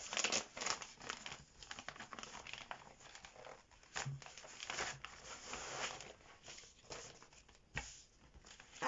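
Plastic wrapping on a cross-stitch kit package crinkles and crackles up close as it is opened, with quiet, irregular rustling bursts and brief tearing sounds throughout.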